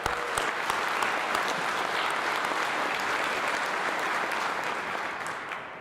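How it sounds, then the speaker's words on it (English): Loud, dense applause from a political rally crowd, a steady wash of many hands clapping without pause that tapers slightly at the end. "A big round of applause."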